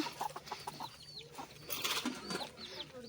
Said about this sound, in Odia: ଦେଖନ୍ତୁ ଏ କୁକୁଡ଼ା ଯାକ